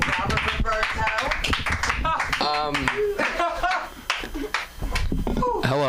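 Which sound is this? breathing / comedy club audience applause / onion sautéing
comedy club audience applause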